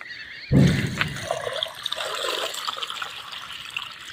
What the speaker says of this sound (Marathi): त्याच्यामध्ये थंड पाणी टाकते थोडं